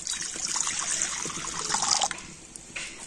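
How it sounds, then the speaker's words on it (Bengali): Water poured into a wok for making Bengali pitha, a steady close trickling splash that tapers off after about two seconds, with lighter dribbles following. "তো প্রথমে আমি কড়াতে দিয়ে দিচ্ছি জল।"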